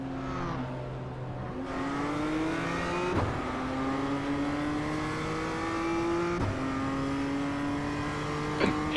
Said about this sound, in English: The blip in the throttle of that M2 sounds great.